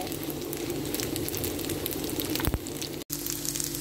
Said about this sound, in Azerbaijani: İndi bu artıq qovrulur, az qalır.